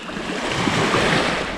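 Sea waves washing on the shore at Sarti, Greece, about 50 metres away, heard as a steady broadband wash of surf with some wind, fairly loud and continuous, with no talking.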